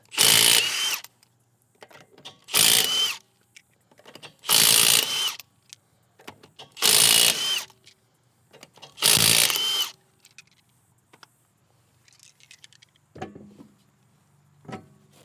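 A power tool, likely an impact wrench, spins off the rear wheel nuts of a 2014 Subaru Forester in five loud, close bursts of about a second each, separated by short pauses with faint clinks in between.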